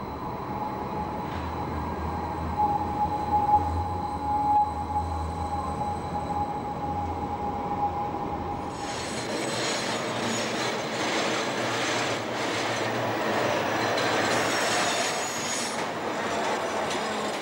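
A tram runs on rails in the former East Germany. A low, steady hum gives way to a louder rolling rumble with rhythmic wheel clatter and metallic squeal partway through, and no speech is heard.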